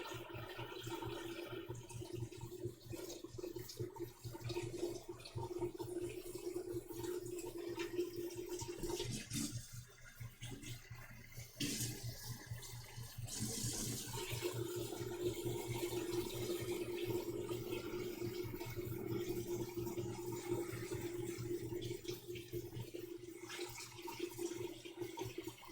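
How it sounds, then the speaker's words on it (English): Hands being washed under a running kitchen tap, a steady broadband rush of water that dips briefly in the middle before flowing on. "Washing my hands separate from the pasta pot, in case anyone's curious."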